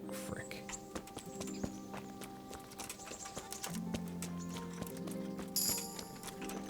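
Horse hooves clip-clop in a steady walking rhythm from a roan horse in the Kingdom Come: Deliverance video game, close and moderately loud beneath game music and ambient tones.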